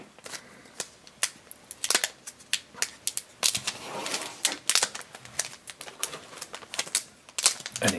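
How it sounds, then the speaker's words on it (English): Scissors snip through the plastic wrapping of a Disney Moana trading card blind pack, giving a quick, irregular series of sharp, close clicks and crinkles with short pauses between cuts. "we might want to just cut it with the scissors"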